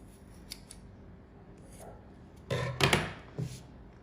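Scissors snipping an egg carton doll during a craft session, a few faint snips early on, then a louder burst of close cutting crunches near the end.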